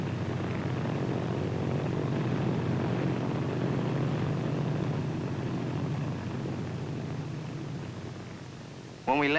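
A propeller airplane lands, its engine drone steady and fairly loud throughout with a faint voice beneath, ending in an abrupt louder noise.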